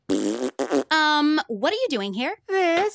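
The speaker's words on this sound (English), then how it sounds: "You're a bean that farts." A cartoon bean character from Central Park lets out a fart, a short, buzzy, pitched blast sounding amid quick exchanges of dialogue.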